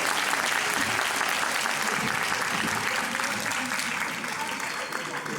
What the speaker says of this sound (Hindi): तो जोरदार तालियां हिमांशु जी के लिए